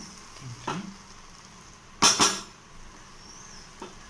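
The metal lid comes off a pot of veg biryani in a home kitchen, a brief double clank near the middle over a quiet background, with a few faint knocks around it.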